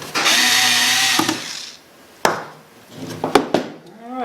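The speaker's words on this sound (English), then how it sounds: "I'll go ahead and put the screws in." Power tool driving screws into a metal server mining cabinet case: a sustained high whirring burst, then short clicks, knocks and brief buzzes of the driver, close and fairly loud.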